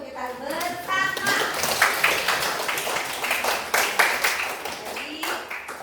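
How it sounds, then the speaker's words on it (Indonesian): A classroom of children claps together in quick, uneven bursts of hand claps that stay close and fairly loud, while voices carry on underneath. "sekarang tepuk tangan dulu untuk kita bersama."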